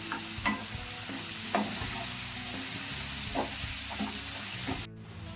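Paste sizzles and crackles in hot oil while a spoon stirs with a few clinks, cutting off abruptly near the end.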